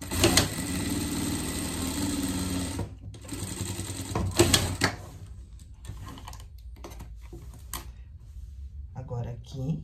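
A sewing machine stitches a pet vest seam in loud, steady bursts of motor whir, breaking off briefly twice and then running on in shorter, quieter runs with small mechanical clicks.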